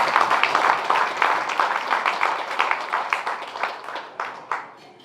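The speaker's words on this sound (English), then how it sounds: "Give yourselves a round of applause," A room of guests at a health care gala applauds, a dense burst of clapping that gradually thins and fades into scattered final claps.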